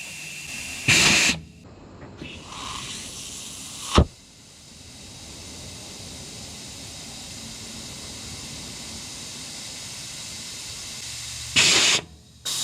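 Steady hiss of air leaking from the brakes of a Ford Xpeditor truck parked since 1996, continuous and even, broken by a few louder bursts of rushing air near the start and end.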